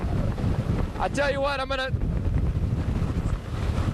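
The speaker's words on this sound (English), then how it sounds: "getting a pretty good wind gust right now, knocks the breath out of you sometimes." Strong hurricane wind from Hurricane Dennis roars and buffets the microphone during live storm coverage, a loud continuous rumble that never lets up, with someone talking over it.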